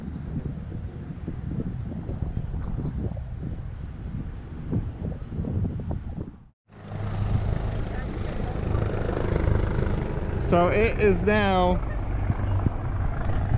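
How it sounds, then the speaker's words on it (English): Helicopter flying over a flooded area in Elkton during the aftermath of Tropical Storm Isaias, a steady broadband rotor and wind roar with a brief dropout, a person speaking over it. "and now they finally got the helicopter out"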